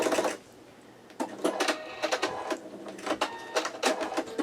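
A sewing machine stitches quilt blocks in short bursts, its rapid whirring needle starting and stopping several times close by, with brief pauses between runs and no talking.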